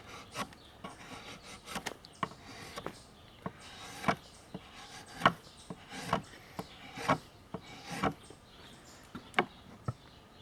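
Hardwood being worked by hand into tomato cage stakes gives irregular rasping, scraping strokes, fairly faint and close, with short pauses between passes.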